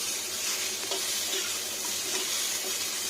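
Potatoes frying in hot oil in a home kitchen pan for a Bengali bori sukto lunch, a loud steady crackling sizzle with occasional stirring scrapes and no voices.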